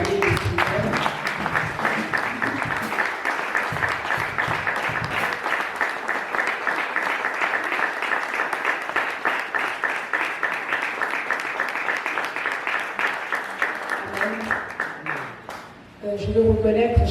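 A church congregation applauds and cheers steadily for about fifteen seconds to honour its leaders and servants of God, the dense clapping filling the room before it tapers off.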